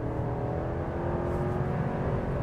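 A 2022 Chevrolet Silverado High Country's big V8 engine runs with a steady, throaty drone and even harmonic hum at constant revs, close and moderately loud with no talking.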